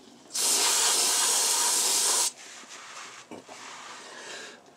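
A loud, continuous aerosol spray hisses for about two seconds under a car during routine maintenance, then stops, leaving quieter handling noises and faint rustles.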